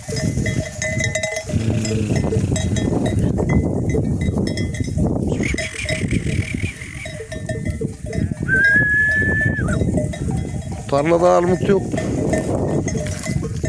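A herd of goats bleats intermittently while grazing in the evening, with cowbells clinking among them and someone speaking nearby outdoors.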